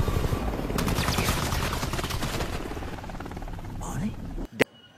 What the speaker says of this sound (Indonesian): berondongan peluru berhasil menghancurkan tubuh si Ocelot dan membunuhnya mati dengan cara mengenaskan.